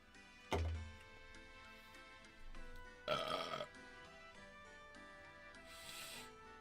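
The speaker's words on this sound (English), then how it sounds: "Let's try to get as many burps out this stream." A man lets out a loud, deep burp near the start, followed by quieter indoor clatter and a brief rustle, with no talking.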